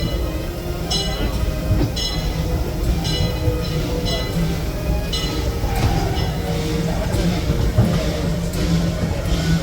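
Riding behind the steam locomotive E.P. Ripley 2 on the Disneyland Railroad, a steady loud rumble of rolling cars with rhythmic clicking of wheels over rail joints and occasional metallic squeals.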